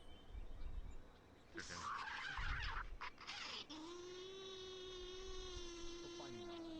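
Video game chicken or turkey-like fowl calling with a sustained gobbling, warbling cry that rises and holds for several seconds, following a burst of noisy in-game action and speech.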